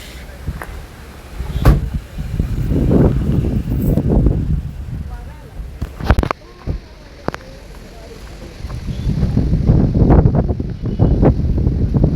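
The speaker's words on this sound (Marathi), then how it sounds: "इतका मस्त गार वारा आहे" Gusty wind buffets the microphone in low rumbling surges that rise and fall, with a few sharp knocks and a quieter stretch midway.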